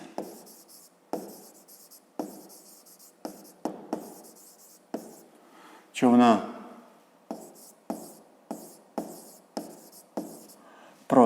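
Chalk or pen strokes during a fifth-grade math lesson come as short, regular scratches at a steady pace with brief gaps, close and clear, and one longer squeaky stroke midway; no talk over them.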